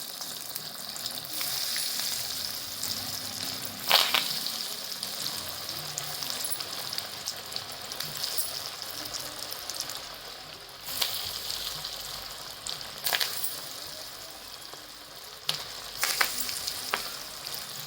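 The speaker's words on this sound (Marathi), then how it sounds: "आता हाय फ्लेमवरती हे फ्राय करून घ्यायचं" Masala-coated potatoes fry on high flame in a pan, giving a continuous close crackling sizzle with a few louder bursts and light stirring noises, steady throughout with no voices.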